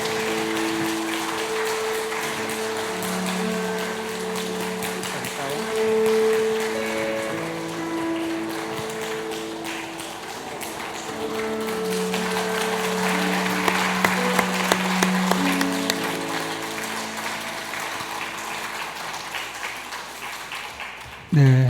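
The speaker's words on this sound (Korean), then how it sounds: "우리 함께 축복의 박수할 때 준비한 선물 드리겠습니다." A church congregation at a Sunday service applauds during a gift presentation, sustained clapping running throughout under soft instrumental music, with a few sharper claps near the end.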